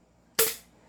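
A single sharp crack from a G.I. Joe 1911 airsoft pistol firing with gas blowback, close and loud after near silence, decaying quickly in under half a second.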